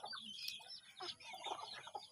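Chickens clucking and calling in a rural village yard, a few short soft clucks scattered over a faint background hum with no speech.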